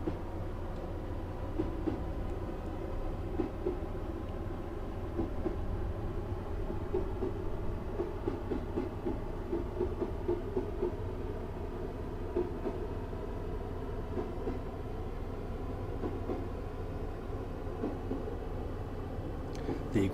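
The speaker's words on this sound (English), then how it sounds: "I've just shut off the power here to allow the train to coast until we're able to accelerate" Passenger train coasting with power shut off in Train Simulator 2019, on the line from Norwich to Great Yarmouth via Acle, giving a steady low rumble with faint rhythmic wheel clicks while someone talks over it.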